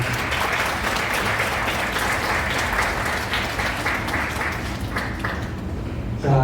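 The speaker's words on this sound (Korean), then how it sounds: "네, 박수를 부탁드립니다." Wedding guests in a hall applaud steadily and loudly throughout, a dense continuous clapping that tapers slightly near the end.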